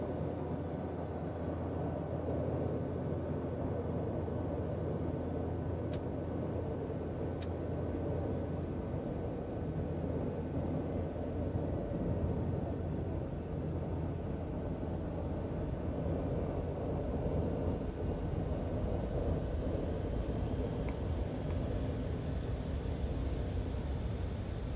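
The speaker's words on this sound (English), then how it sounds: "We're taxiing now." An Airbus A400 military transport aircraft taxiing, a steady, continuous low engine rumble and drone with a thin high whine rising slightly in pitch, heard from close by with no break.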